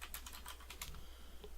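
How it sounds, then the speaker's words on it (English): Quick light keystrokes clatter on a computer keyboard in a short burst, faint and close, over a low steady hum. "Oh, I love hitting the wrong keys."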